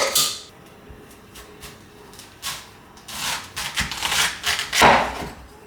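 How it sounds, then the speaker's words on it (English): A knife cuts washed taro into finger-width pieces on a board, giving irregular crisp chops and scraping strokes, sparse at first and then in a quicker cluster, close and fairly loud, with no voices. "Let's cut them into sizes to put into the pressure cooker bowl."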